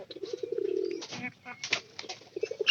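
Pigeons at a Bangladeshi bird market give soft, low rolling coos in short bursts, with brief fluttering and background chatter and voices nearby.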